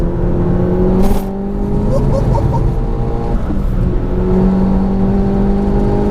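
A stage 3 big-turbo Seat Cupra making about 440 bhp pulls hard through a corner on the road. The engine note rises and falls as it accelerates, with turbo whir, heard from inside the car.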